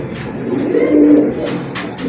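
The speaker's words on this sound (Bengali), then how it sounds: "কবুতরটা কিন্তু প্রচুর ডাকে" A single male pigeon for sale gives a close, loud, low throaty coo that swells and fades over about a second. A few soft rustles follow.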